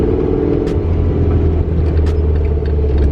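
A Toyota MR2 Spyder with a five-speed manual heard from inside during a ride-along: a loud, steady engine drone and low road rumble filling the cabin, with a couple of faint higher clicks and no talking.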